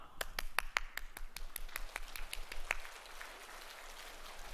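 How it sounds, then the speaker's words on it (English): A keynote audience claps with the less dominant hand on top, producing sparse, uneven sharp claps at first that blur into a softer, scattered patter before tapering off. "I'd like you to clap with your less dominant hand on top"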